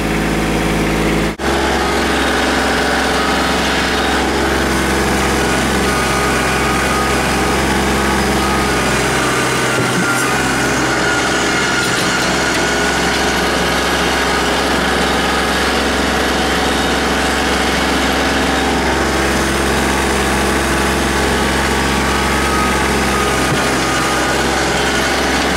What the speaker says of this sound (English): I got the tiller hooked up. We're going to start tilling it over.